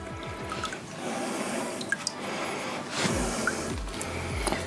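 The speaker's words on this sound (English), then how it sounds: "I'm just going to take this out and rinse that in the water." Rinsing a mechanical filtration bag from an OASE BioMaster aquarium filter in water; quiet sloshing and scattered drips and splashes, close by and faint, with small bursts of movement and no talking.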